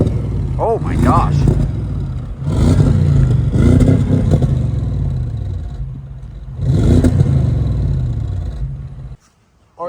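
An Audi S6 fitted with a 034 Motorsports X-pipe exhaust revs repeatedly, several loud rising blips with pops, close by, with people talking over and between the revs before a brief drop to near silence at the end.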